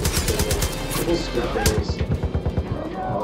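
Rapid bursts of gunfire in the Far Cry 5 video game, loud repeated shots in a fast rhythm, with talk mixed underneath.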